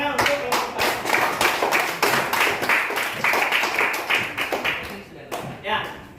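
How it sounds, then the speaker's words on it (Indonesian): A group claps in a brisk, uneven burst of applause, loud and close, tapering off briefly near the end before a few final claps. "Tepuk tangan untuk kelompok 4."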